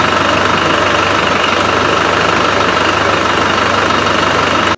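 A 300Tdi diesel engine with an air-in-fuel problem idles steadily, close and loud, giving a dense, even knocking clatter over a constant mechanical rumble that holds unchanged until an abrupt cutoff; no voices.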